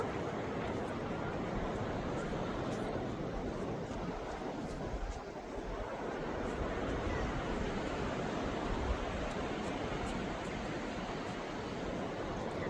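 Sea waves at Kuakata beach in Bangladesh, beside a mangrove forest, make a constant broad roaring wash that stays loud and steady throughout, mixed with some wind buffeting and no clear speech.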